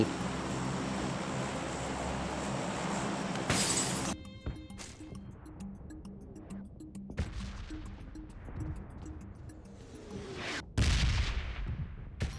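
Heavy booming blasts and crashes from a bombing zone in PUBG Mobile, with a roar that cuts off abruptly, scattered debris-like impacts, then another loud explosion near the end.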